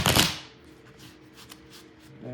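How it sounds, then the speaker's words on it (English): A deck of tarot cards gets a quick, loud riffle shuffle at the start, then a few soft shifting and tapping sounds as the cards are handled nearby. "I feel like one more shake and a shuffle ought to do it."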